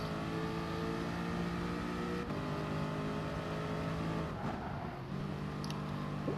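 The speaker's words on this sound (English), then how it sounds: "Braking a little bit for this corner." Race car in the GT Sport racing game, a loud engine note holding high, dropping as the car brakes for a corner, then climbing again under acceleration, continuous and up close without talk.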